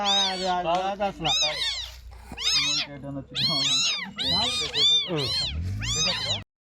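A kitten meows over and over, loud and close, a string of high, wavering cries with hardly a pause between them.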